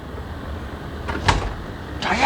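A door opens in a radio drama with a short clunk and rattle of the latch, followed by a second faint knock or creak, over low room ambience.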